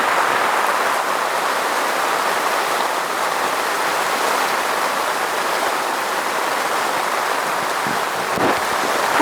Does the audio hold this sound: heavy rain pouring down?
yes